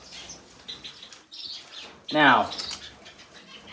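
A pet bird is released after a blood sample is taken, and its wings give a brief burst of flapping close by. Faint chirps and light handling noises surround it, and a voice says a single word.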